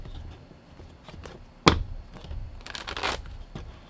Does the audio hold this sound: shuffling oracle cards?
yes